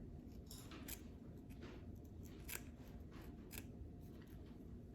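Quiet, close snips of small scissors, several crisp cuts at an uneven pace over a soft background hiss.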